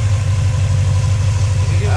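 A brand-new 450hp 351 Cleveland V8, freshly started, idles in park at about 1,000 rpm with a steady, deep, loping rumble heard up close throughout.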